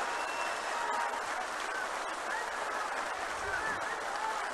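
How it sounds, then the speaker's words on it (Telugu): A political rally audience breaks into applause, a steady wash of many hands clapping, heard at a distance and fairly faint throughout. "గట్టిగా చప్పట్లు కొట్టి మీరంతా కూడా అభినందించాల్సిన అవసరం ఉంది"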